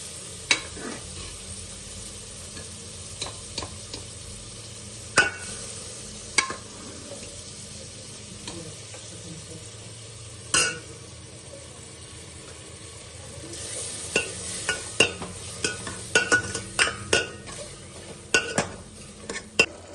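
Tripe (boti) fries in a pan for a curry, a low constant sizzle broken by scattered sharp scrapes and clinks of a spoon stirring against the metal, growing busier near the end, close up with no talking.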